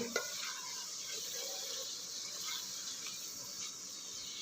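Soft continuous sizzling and stirring of tomatoes and onions sautéing in a pan, a steady gentle hiss with faint scraping, fairly quiet and close, no talking.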